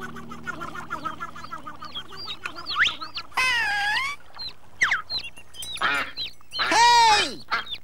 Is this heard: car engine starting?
no